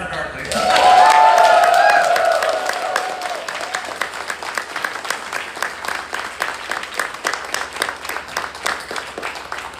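A convention crowd at TrotCon claps for a guest, applause swelling with cheers and voices at first, then thinning into scattered individual claps that continue steadily over nearly ten seconds.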